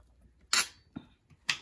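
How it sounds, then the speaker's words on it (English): A knife slices a tomato into bite-sized pieces on a board, giving three short crisp chops with small pauses between them, close and clear. "I'm just slicing it in bite-sized pieces because I don't want to eat a chunk of tomato"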